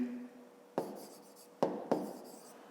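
A pen writing numbers on paper by hand during a fifth-grade math exercise, faint close scratching strokes with a few sharp taps, quiet and alone with no talk.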